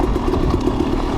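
A two-stroke dirt bike engine runs steadily with the clutch pulled in, a loud, close, even drone with a faint rattly texture and no speech.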